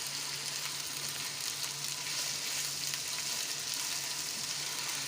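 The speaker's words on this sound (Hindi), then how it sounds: "दो 3 मिनट तक आलू फ्राई करें।" Potatoes frying in a pan: a steady, even sizzle that stays close and constant for several seconds, with faint stirring and no voices.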